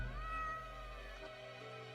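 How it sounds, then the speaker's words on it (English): A cat meows in the video game Death and Taxes, a short tonal mew over a steady musical background, moderately quiet and close, with no talking. "Meow, the cat notes while casually twirling around in her spot"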